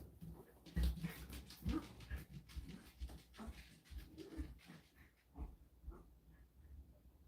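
A pet dog waiting to be let outside whimpers and yips softly, with restless snuffling and shuffling between the cries, all quiet and close.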